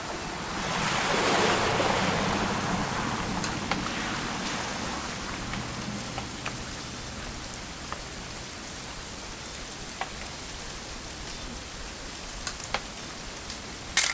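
Steady rain in the video game What Remains of Edith Finch hisses across a broad wash of noise, with a gust-like swell early on and scattered sharp drip ticks throughout.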